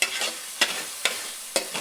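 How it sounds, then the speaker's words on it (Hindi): Whole spices like cinnamon, cloves, black pepper and green cardamom frying in a karahi, with a quiet, steady sizzle broken by three or four sharp scraping strokes of the stirring spoon. "इसे भी थोड़ा सा हिला लेंगे।"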